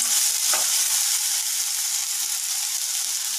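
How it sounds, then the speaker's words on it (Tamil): A cooking pan of leftover idli payasam hisses steadily while a spoon gives a brief scrape as the contents are stirred, close by, with no talking. "ஒரு தடவை நல்லா இப்படி கலந்து விட்டுக்கோங்க"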